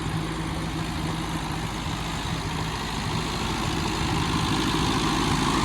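A half-track tractor engine, fitted with a front snow-plow blade, idles in a steady, continuous low rumble with no voices over it.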